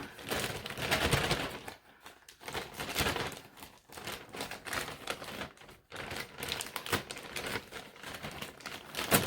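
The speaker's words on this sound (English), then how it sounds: "open up my bag of potting mix" A plastic bag of potting mix being torn and pulled open: continuous crinkling and rustling with bursts of sharp crackles, close and fairly busy throughout, with no one speaking.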